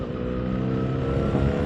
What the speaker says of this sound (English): the exhaust just pops and farts, double blips on the way down